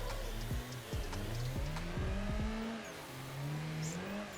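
A turbocharged car drifting in Assetto Corsa, its engine revving up and down with rising and falling pitch while tires squeal briefly, heard close and fairly steady.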